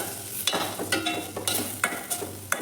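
A spoon stirs sambar powder into an egg sambar in a pan, with several quick scraping strokes against the metal over a faint sizzle, close and without talk.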